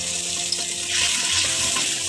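Spices with water, chili powder and turmeric powder sizzle and bubble in a pan, a steady close hiss of frying without any voices.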